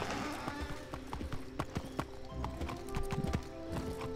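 A horse mount in the Wizard101 video game trots with a rapid, steady clip-clop of hooves close up, continuous and fairly loud, backed by soft game sounds.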